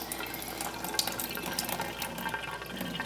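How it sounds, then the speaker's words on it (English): Water running and splashing as sprouting grain is rinsed inside a glass jar with a mesh lid, a steady close faucet-like flow with small gurgles and drips, no talking. "So I'm just gonna rinse it right in the sprouter jar, or right in the jar with the mesh."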